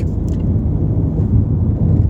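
A car accelerating through a bend, its engine giving a steady close rumble that swells slightly as it pulls through the turn.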